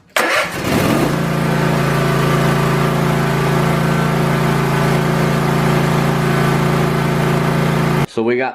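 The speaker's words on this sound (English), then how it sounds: "So you want it at wide open throttle and start it." Kawasaki small engine cranks and catches, then holds a steady, loud, even drone at wide open throttle for about seven seconds before cutting off, with talk over the start.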